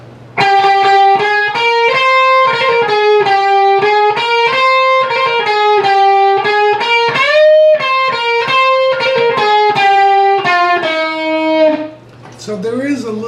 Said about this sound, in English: guitar 2 during this outro solo harmony will sound like this